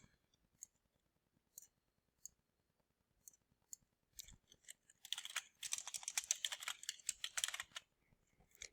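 Fingers typing on a computer keyboard, sparse single clicks at first, then a quick dense burst of keystrokes before tapering off, quiet and close.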